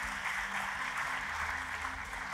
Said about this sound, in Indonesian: Tepuk tangannya pula yang paling meriah buat Tuhan kita.